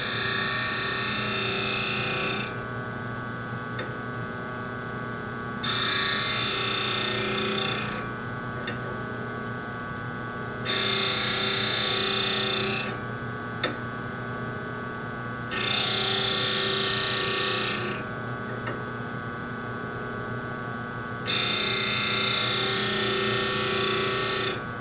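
A bench grinding wheel shapes the tip of a woodturning point tool in five loud, harsh bursts of a few seconds each, with the motor's steady hum continuing between passes.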